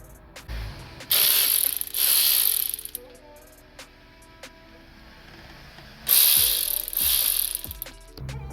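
A ratchet spins out 10 mm bolts from the oil filter housing of a BMW 1 Series, heard as two long bursts of rapid, loud clicking separated by quieter handling noises and small clanks.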